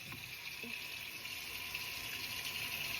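Tap water runs steadily into a sink while something is rinsed, a soft continuous gushing hiss at low level with faint clatters.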